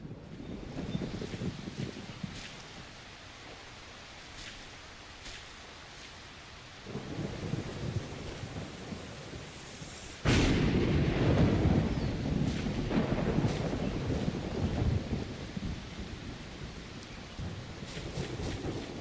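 Thunderstorm in the game SolarPunk: wind and rain build in stages, and a sudden loud thunder crack at mid-clip gives way to heavy, steady rain and gusting wind.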